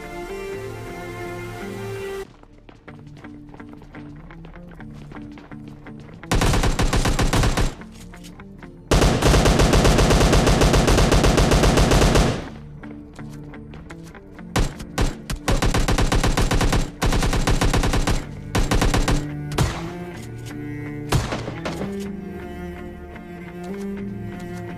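Pump-action S1897 shotgun fire in the mobile battle-royale game PUBG Mobile Lite, with loud, dense bursts of gunshots in several clusters among quieter in-game sounds, and no talking.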